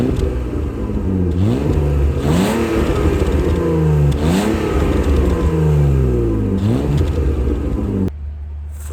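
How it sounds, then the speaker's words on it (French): A BMW E36 M3 with a stock engine revs repeatedly, climbing and falling in pitch several times in quick succession, loud and close, then cuts to a steady low idle at the end. "Franchement, le bruit de la E36,"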